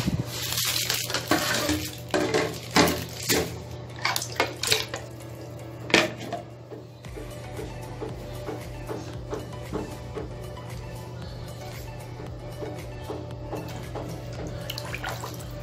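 Water splashes and sloshes as laundry is washed by hand, with busy clattering and swishing for the first few seconds, then a steadier, softer churn of water under a constant low hum.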